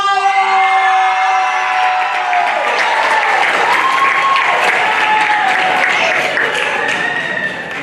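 Audience at a student poetry slam bursts into loud applause with cheers and whoops, sustained and close, with shouting voices mixed into the clapping.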